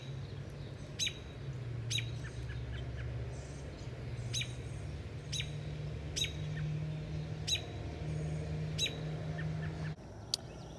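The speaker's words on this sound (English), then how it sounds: "Here's some American robins." Short, sharp bird calls repeat about once a second, moderately close, over a steady low outdoor hum. The calls are attributed to American robins on a nature walk in June.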